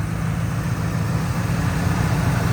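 A 1984 Chevrolet Camaro V8 runs steadily at idle, a low, even rumble heard up close and alone with no voices.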